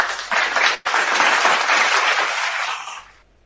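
A burst of crowd applause plays as a sticker-style sound effect, dense clapping that holds steady for about three seconds before fading out, with no talking over it.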